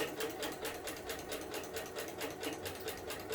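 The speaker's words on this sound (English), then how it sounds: "So now we're sewing blocks 4 to 5 and 6." A sewing machine stitches rag quilt blocks together in fast, even bursts of needle strokes, close but fairly quiet, with a steady rhythmic clatter throughout.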